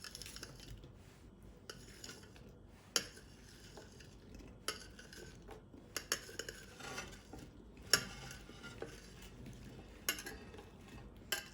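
Grapes and apples tumble into a dish for a fruit salad, giving a series of soft, scattered taps and knocks against the bowl at a quiet level, with no one speaking.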